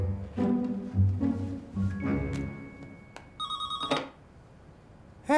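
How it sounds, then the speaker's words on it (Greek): A telephone rings in a lodge, several bright electronic ring bursts cutting through indoor clatter and thumps, fairly close and loud before stopping. "Τηλεφώνησε, τηλεφώνησε."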